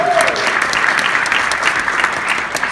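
An audience at a corporate motivational talk claps loudly, a dense, sustained burst of many hands that stays full from start to finish with no voices over it.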